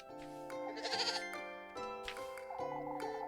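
A goat in an animated farm story bleats in wavering, drawn-out cries that rise and fall over a steady tonal background, close and fairly loud, with no speech.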